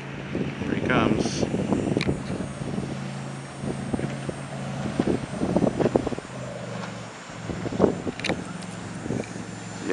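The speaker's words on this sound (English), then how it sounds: "Big V8 powered boat coming." A V8-powered pleasure boat passing on the Rivière des Prairies, a steady low engine drone under wind noise and water, with people talking nearby throughout.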